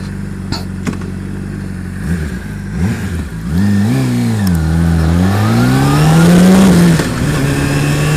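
A 2007 Honda CBR 600RR motorcycle engine idles, blips a couple of times, then pulls away and accelerates loudly through rising revs and a gear change, close by on a cold ride.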